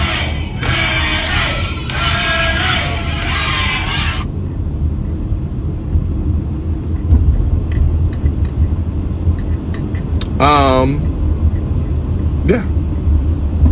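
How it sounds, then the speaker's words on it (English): Loud car engine noise, a constant low rumble that runs throughout while someone talks over it at the start, then continues on its own with a brief voice near the end. "a car is loud"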